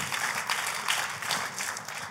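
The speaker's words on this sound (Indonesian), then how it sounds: "Kita kasih tepuk tangan boleh yang paling meriah buat Tuhan kita." A church congregation applauds during a worship service, a steady wash of crowd clapping heard at moderate distance with no voices over it.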